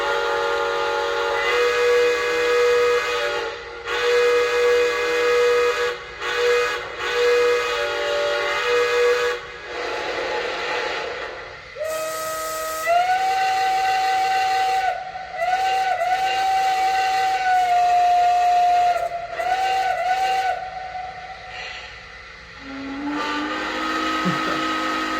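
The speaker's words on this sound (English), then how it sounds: "so it's smoking, so let's hear some whistles." A Lionel Legacy Santa Fe L1 Mikado model locomotive, smoking, sounds its steam whistle in repeated loud, sustained toots with short gaps, then shifts to a different whistle tone near the end.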